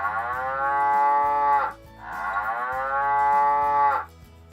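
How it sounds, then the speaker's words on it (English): A cow moos twice: two long, loud, drawn-out lows, each a few seconds long, separated by a short pause with no other sound. "So this is the sound that the cows make."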